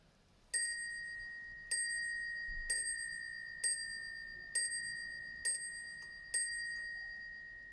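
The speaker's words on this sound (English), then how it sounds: "It rings on a bell. Let's see if it works." An antique French mantel clock with an 1880s movement in a mahogany Edwardian case strikes its bell seven times, each clear metallic ding ringing out and decaying before the next, close and alone in a quiet room.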